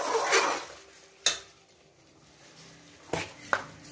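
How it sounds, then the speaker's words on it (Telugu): Taro curry being stirred in a pan after chilli powder goes in: a few distinct metal spoon scrapes and clinks against the pan, close and crisp, over a faint low sizzle. "కారం వేసినాం కదా, మంచిగా కలుపుదాం ఒకసారి"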